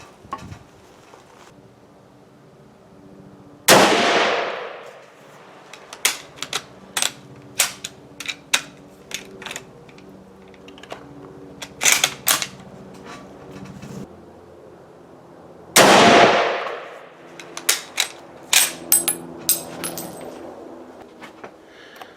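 A Mosin-Nagant rifle fires 7.62x54R handloads loaded with IMR 4895 powder at an outdoor range. Two loud, sharp shots ring out well apart, each followed by metallic bolt clicks and clacks as the rifle is cycled.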